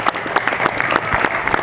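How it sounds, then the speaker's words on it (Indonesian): A school audience at an Indonesian event gives a quick burst of applause, close, loud clapping that is dense and uneven throughout. "Ya, tepuk tangan ya."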